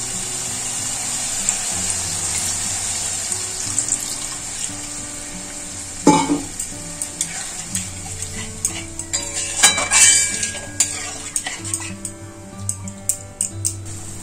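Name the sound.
stirring fried spice masala as water is added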